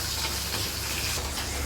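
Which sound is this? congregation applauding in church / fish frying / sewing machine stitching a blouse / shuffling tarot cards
fish frying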